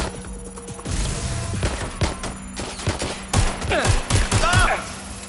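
Video game gunfire in Watch Dogs Legion: dense, continuous bursts of rapid automatic shots and sharp cracks, loud and close, layered over steady background game noise with a voice calling out partway through.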